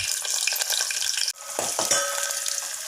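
Onions hit hot oil with cumin, mustard seeds and green chili, giving a steady close sizzle and crackle, broken once by a brief scrape of stirring before the frying hiss resumes.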